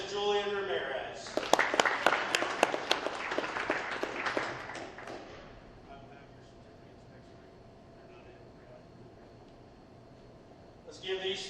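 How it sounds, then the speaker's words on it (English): A room at a high school football awards ceremony breaks into a few seconds of brisk applause from a modest crowd, which fades into quiet room tone before a voice resumes speaking. "Let's give these three a round of applause"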